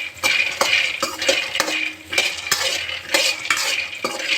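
Peanuts stirred in a pan while roasting on low heat, a near regular series of sharp scraping clinks from the spoon against the pan, about two per second, close and without talk.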